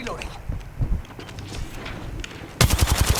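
Rapid automatic gunfire in the video game Apex Legends erupts near the end as a loud, rhythmic burst of shots, with excited voices talking over the quieter game sounds before it.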